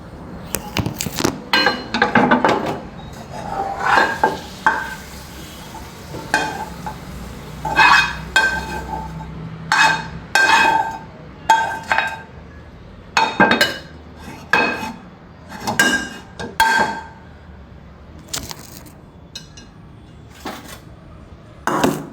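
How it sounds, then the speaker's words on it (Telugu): A spoon scrapes and knocks against a pan while tomato cabbage masala curry is transferred into a bowl: a close, steady series of sharp metallic clinks and scrapes, with no voices. "ఇప్పుడు కూరని గిన్నెలోకి తీసేసుకుందాము."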